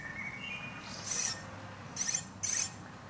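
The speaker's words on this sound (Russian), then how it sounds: "Слышите, как птички поют?" Morning birdsong outdoors, faint high chirps and three brief bright bursts of calls spaced about a second apart over a low background hum, with no talking.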